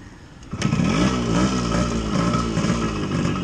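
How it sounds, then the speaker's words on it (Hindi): A Yamaha RX100 two-stroke motorcycle engine fires up on a kick start and revs loudly and steadily up close, with a strong, buzzing exhaust note that rises and wavers over a few seconds. "तो गाइस बाइक की स्टार्ट तो हो गई है मेरे से पहले किक में"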